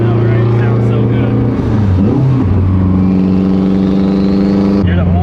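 A stock-motor AWD Honda Civic running with a loud, sustained engine drone that dips briefly and climbs back in a rev, close up and continuous throughout.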